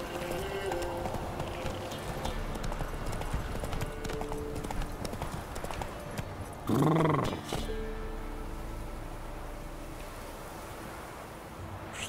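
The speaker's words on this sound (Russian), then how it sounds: "лошадь появилась здесь" Horse hooves clip-clop in a fast, steady gallop in The Witcher 3, loud and continuous against a noisy game backdrop, broken by a brief whooshing swell partway through.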